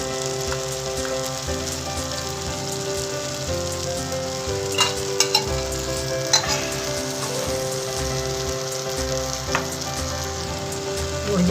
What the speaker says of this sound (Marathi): आता मी जिरा राई चांगली परतून देते